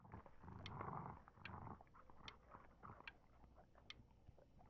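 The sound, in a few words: growling creature in the video game Before Your Eyes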